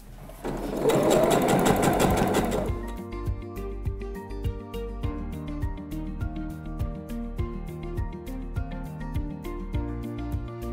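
A sewing machine stitches a sleeve seam into the armhole of a garment. It opens with a loud continuous whir, then switches to a steady rhythmic run of short stitching bursts for the back-tacks, all close and clear.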